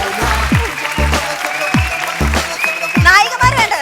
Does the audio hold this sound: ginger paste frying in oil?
no